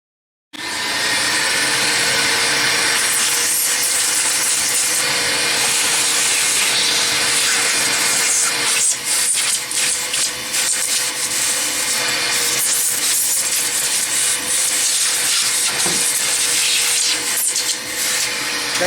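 A vacuum cleaner runs continuously, loud and close, cleaning out an old 1990s Compaq Presario computer, with a steady roaring whine and slight shifts in tone as the nozzle moves.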